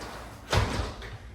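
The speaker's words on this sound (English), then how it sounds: "Come back, I'll shut the door." A door to a house, next to an outdoor smoker, is shut with one solid thump and a short rattle after it. It is close and fairly loud against quiet outdoor background noise.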